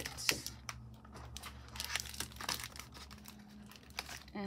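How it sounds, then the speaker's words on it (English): A 2001 Bratz doll, Felicia, is pulled from plastic packaging, giving close crinkling and tearing bursts of plastic at irregular intervals, with a soft background hum and a louder rustle at the very end. "And then we just peel her out like that"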